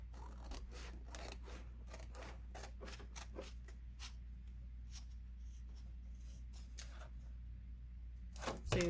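Scissors snip through the paper of a composition notebook in a quick run of crisp, close cuts, each a short dry rasp, some closely spaced, with a faint rustle near the end.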